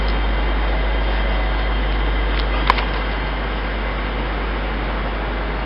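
A train departing a station on a railway where Class 314 units run gives a steady low rumble and hum throughout, with one brief sharp click in the middle and no talking.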